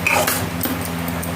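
Vegetarian posto, a poppy-seed dish, being stirred in a pan with added water, giving a brief run of close metal scraping and clinking of a spoon against the pan over a steady low hum.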